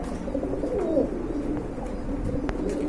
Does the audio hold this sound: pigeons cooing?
yes